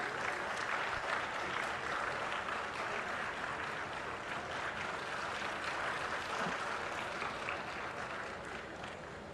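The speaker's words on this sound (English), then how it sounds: "Let us give a resounding round of applause to this landmark achievement." A large audience at a ceremonial launch of a non-GMO maize hybrid seed gives prolonged applause, a thick, unbroken roar of clapping that fills the hall and tapers slightly at the end.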